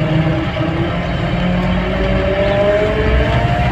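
A car engine drones and revs steadily as the vehicle is driven slowly, loud and continuous with rising engine pitch, close by.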